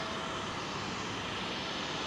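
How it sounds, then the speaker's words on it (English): A Boeing 747 taxiing at Heathrow Airport gives off a steady, broad jet-engine roar that holds at a moderate, distant level throughout, with no voices. "that 747, I think she's going to taxi all the way up here, Jilly."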